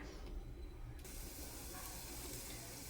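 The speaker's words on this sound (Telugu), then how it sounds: "ఆయిల్ హీట్ అయిన తర్వాత ఉల్లిపాయలు వేసుకుందాం ఫ్రెండ్స్." Onions dropped into hot oil in a pan on a stove break into a sudden, steady broadband sizzle that hisses on evenly and fairly close.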